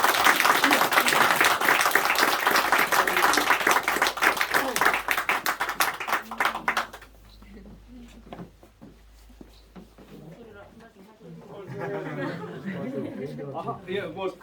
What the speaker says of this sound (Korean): 아유, 우리 환영 박수 한번.